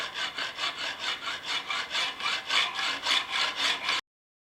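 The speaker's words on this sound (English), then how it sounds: "Now we need to cut this thing off." A hand saw cuts off a metal piece while an off-center bolt hole is adjusted, rasping in a steady back-and-forth rhythm of about fourteen strokes, close and clear, before stopping abruptly.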